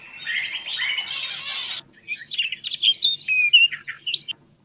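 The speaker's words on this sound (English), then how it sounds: "So we can type in birds chirping." Several birds chirp and tweet close by, first in a busy overlapping burst, then after a short pause in brighter separate calls and whistles, with no voices present.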